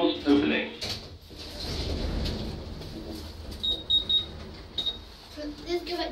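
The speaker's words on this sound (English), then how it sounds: "Doors opening." Stannah lift doors at Kirkcaldy Station slide open with a soft mechanical rumble and a brief electronic chime, while a voice talks nearby.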